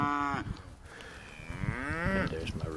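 A large cow on a farm lets out several drawn-out moos close by, rising and falling in pitch, with a faint voice in the background.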